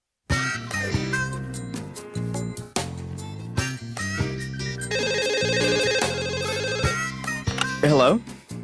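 A telephone rings in a house, its repeated bell tones mixed with jingly tonal music and brief voices.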